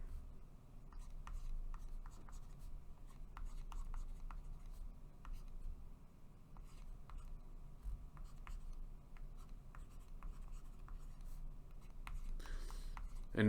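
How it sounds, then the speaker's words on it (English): Pen or marker writing while drawing out the molecule isoleucine, a quiet run of scratchy strokes and small taps at an irregular pace, close and faint with no talking. "So I'm going to draw this out again real quick."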